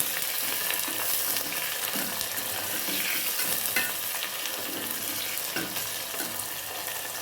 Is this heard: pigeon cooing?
no